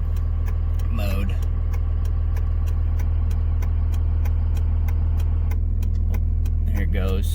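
2004 Cummins diesel pickup engine drones steadily while driving, a loud continuous low rumble as it switches tune mode out of 12-valve behaviour, with brief faint chirping sounds over the engine and no talking.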